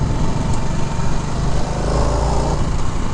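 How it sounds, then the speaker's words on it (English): A 2023 Harley-Davidson Nightster Special with its Revolution 975 engine runs steadily. The close, loud, even drone has a busy, buzzing texture and continues without pause, with no talk. "As far as the sound of this bike goes, it's definitely got an interesting sound to it."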